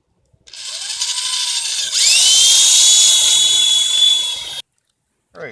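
Power drill boring a side passage into a tree stump: a loud, close, high-pitched whine that rises in pitch as the motor spins up and holds steady for several seconds before cutting out, followed by a brief squeak.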